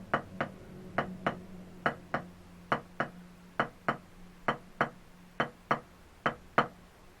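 Steady series of crisp wooden drumstick taps from left-hand drop-catch strokes, about two per second in pairs, clear and close with nothing else around them.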